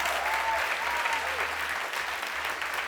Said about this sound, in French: Est-ce qu'on peut encore tous ensemble, ils sont tous là derrière, les applaudir une dernière fois?